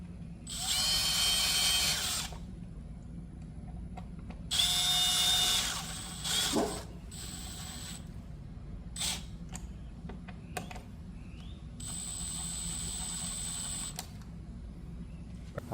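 A power drill drives two screws into a Kwikset Montara front door lock, with loud bursts of whirring at roughly 1, 5 and 13 seconds, separated by quieter handling clicks and creaks, close by.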